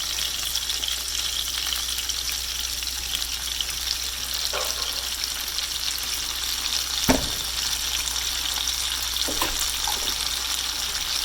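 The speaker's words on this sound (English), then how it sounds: "this is just gonna kind of cook just for like a minute or so until the onions start to get translucent and the garlic gets really fragrant" Onions and garlic frying over medium heat in a pan for a creamy carbonara, a steady close sizzle with a few soft stirring knocks, no talk.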